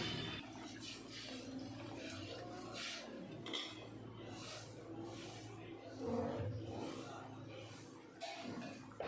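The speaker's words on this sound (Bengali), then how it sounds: "এখন আমি দিয়ে দেব পরিমাণ মতন জল" Water pours into a pan of raw banana curry with a gurgling splash, alongside light clinks of utensils against cookware.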